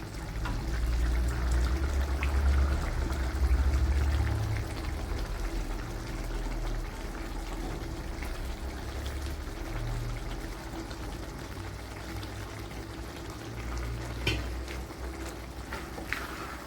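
Dried anchovies go into a pan of sautéed onions for nethili karuvadu thokku and are stirred, giving a steady, dense cooking rustle with soft scraping throughout and no talk.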